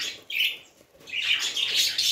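Budgerigars chirp and squawk loudly around their nest boxes, with bright, busy calls that pause briefly in the middle and then return as a dense chatter. No one speaks.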